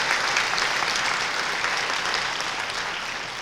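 A large audience at a Korean charity board chairman inauguration ceremony applauds continuously, a dense, even wash of clapping that slowly fades near the end.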